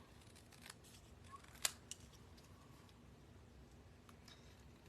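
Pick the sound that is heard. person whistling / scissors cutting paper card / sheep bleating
scissors cutting paper card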